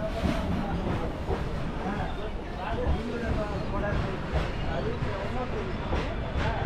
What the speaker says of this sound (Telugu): అటు సైడ్ చూస్తారా, గూడ్స్ ట్రైన్ అయితే వెళ్తుంది